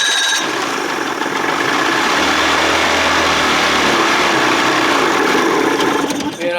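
A 1979 Evinrude 55 hp outboard motor with a fault churns and sputters close by while being started, a loud continuous mechanical rattle that cuts off near the end.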